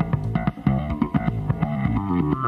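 A bass lick, a quick run of punchy, slightly distorted bass notes in a bouncing rhythm, close and fairly loud.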